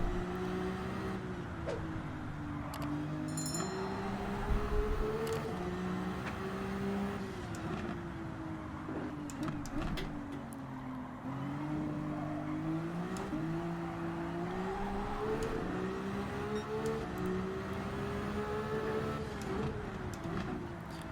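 A Ferrari VGT race car in a racing video game, its engine note rising and falling steadily through gear changes and throttle shifts, with brief braking dips, close and continuous throughout.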